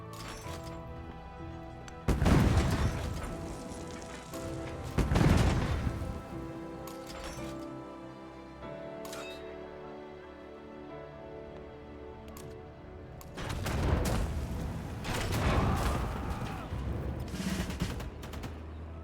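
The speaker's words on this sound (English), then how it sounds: "Bombardment." Heavy booming impacts from a bombardment in Civilization 7, arriving in loud clusters separated by quieter stretches of rumbling game sound and clatter.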